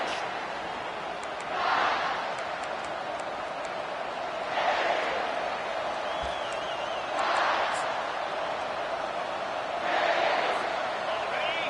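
A college football stadium crowd at a Gamecocks game keeps up a steady roar, swelling in loud surges roughly every few seconds, with no commentary over it.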